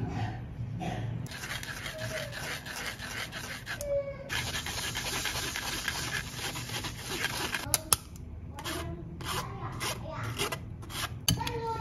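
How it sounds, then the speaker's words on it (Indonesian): Batter is pushed through a sieve to smooth its texture, producing close, repeated scraping and rubbing strokes with small clinks of utensil against metal mesh, soft and irregular throughout. "selanjutnya ini akan saya saring. Jadi supaya teksturnya lebih halus"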